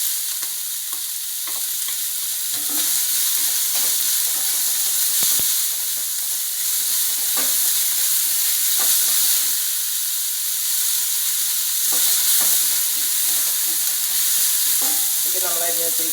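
Vegetables and beans for a mixed vegetable soup frying in a pan, giving a loud, continuous sizzle and hiss with repeated stirring scrapes and taps throughout.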